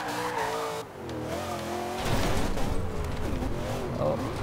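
Camaro Z/28 drifting in the racing game Forza Horizon 2, with a loud, steady engine roar and wavering tire squeal that grows stronger after the first couple of seconds.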